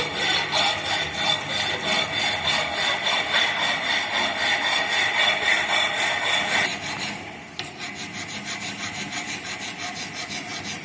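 A rough file is drawn back and forth across a metal workpiece held in a vise in a fitting shop, making loud, rhythmic rasping strokes that soften and steady partway through.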